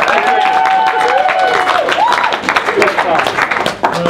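Audience applause at a self-defense class event, with hand claps mixed into crowd noise while a voice talks over it, the clapping loosening toward the end.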